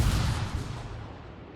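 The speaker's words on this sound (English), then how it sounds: "they're shooting at our CV" Distant gunfire in a naval combat video game, aimed at an aircraft carrier: a dense, rumbling wash of low booms that gradually fades over about a second and a half, with no voices.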